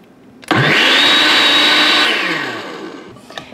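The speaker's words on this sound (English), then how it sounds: "We're gonna blend that and mix it up really well." Blender mixing milk into crepe batter, starting abruptly with a loud whir that holds steady for about two seconds, then winds down in pitch and fades after being switched off.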